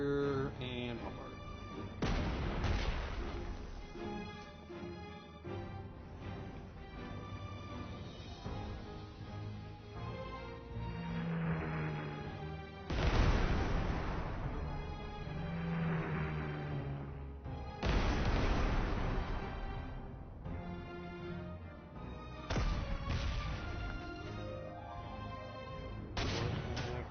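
Artillery bombardment in the strategy video game Panzer Corps 2, heavy booms recurring every few seconds amid a dense wartime soundscape, with someone talking over it.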